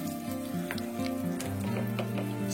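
Anchovies sizzle and crackle steadily as they fry in hot oil in a home kitchen, a close, continuous hiss with small pops, no voices over it.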